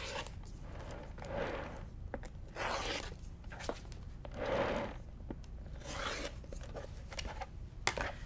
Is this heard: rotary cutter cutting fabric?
yes